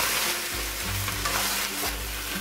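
Lettuce crackles and sizzles steadily as it is stir-fried over high heat in a pan for Hong Kong style beef and lettuce fried rice, a close, continuous hiss with no talking.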